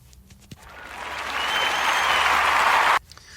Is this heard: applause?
yes